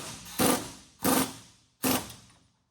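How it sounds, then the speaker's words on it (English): Impact gun snugging up a nut, three short sharp rattling bursts roughly half a second apart, close and fairly loud with nothing else around them. "I'm going to use an impact gun"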